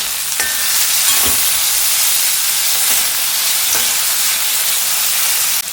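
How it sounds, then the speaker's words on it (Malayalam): Chopped tomato is stirred into an ivy gourd fish curry base frying in a pan, giving a steady loud sizzle broken by a few scraping stirs, with no talking. "അരിഞ്ഞു വെച്ചിരിക്കുന്ന ഒരു തക്കാളി ചേർത്ത് കൊടുക്കാം. അതിനെയും ഒന്ന് ഇളക്കി കൊടുക്കാം."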